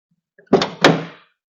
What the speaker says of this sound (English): Doors actually open and shut pretty nicely on this thing.